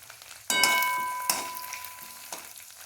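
Bay leaf and cumin dropped into hot oil for a chole curry, two sudden bursts of sizzling that fade gradually, with a faint metallic clink near the end.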